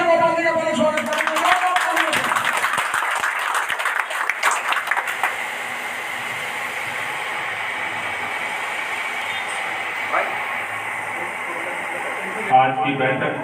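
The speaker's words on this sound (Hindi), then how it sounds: "एक बार जोरदार तालियों से गोपाल जी का पहले स्वागत करेंगे" Applause welcoming Gopal Rai bursts out at a local Aam Aadmi Party gathering, with dense clapping at the start that gives way to a long stretch of crowd noise and background hum.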